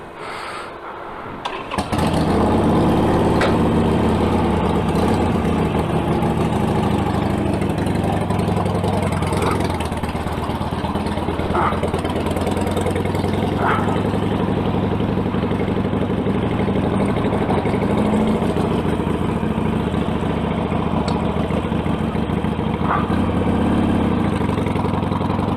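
A motorcycle engine starts after a brief quiet moment, then runs steadily through the ride on a rainy road toward Ellesmere, with a continuous mid-pitched drone and occasional small revs and bumps.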